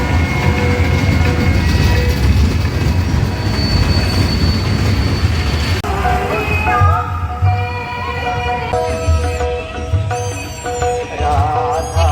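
A fairground dragon train ride at a Ranaghat Rath fair rumbles along steadily with metallic wheel squeals and screeching tones, loud and close, with a crowd murmuring faintly behind.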